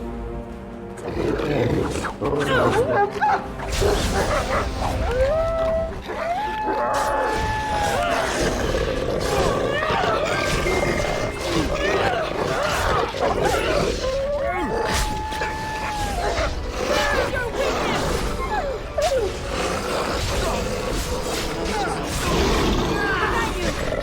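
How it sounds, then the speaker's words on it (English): Wolves in the fantasy video game Dragon Age: Origins growl and snarl, with loud overlapping roars and rising cries over a busy game soundtrack throughout. "Probably wolves."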